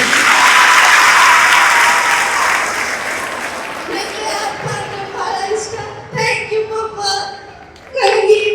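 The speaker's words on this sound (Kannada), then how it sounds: "ಸೊ ಎಲ್ಲರೂ ಇನ್ನೊಂದ್ಸಲಿ ಹೊಸದಾಗಿ ಜೋರಾದ ಚಪ್ಪಾಳೆ" An audience bursts into loud, dense clapping that gradually thins into scattered claps, with voices and a few stray claps and knocks following as it fades.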